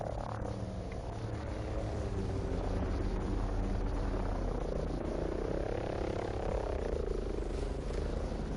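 An enemy helicopter in the Ghost Recon Breakpoint video game thrums steadily with a low rotor drone that rises and falls slightly over a continuous rumble.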